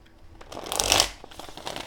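A Soul card deck being shuffled in one short riffling burst that swells to a peak and then eases off, close and fairly quiet, with no voices.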